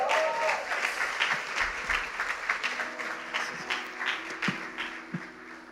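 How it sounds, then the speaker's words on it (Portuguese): A church congregation applauds steadily during an evening service, a dense wash of clapping with a few louder claps standing out. "Me ajudem a receber com uma grande salva de palmas"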